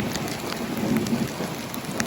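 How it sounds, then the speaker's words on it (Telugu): Heavy rain pours steadily and loudly around a Netravati Express sleeper train on the Konkan railway route just after it leaves a tunnel, a dense, unbroken hiss with no voices. "టనల్లోంచి బయటికి రాగానే వర్షం."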